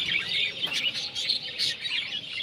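A flock of pet birds kept at home, some nesting on eggs, twitters in a steady stream of close, bright chirps without pause for the few seconds heard, with no voices.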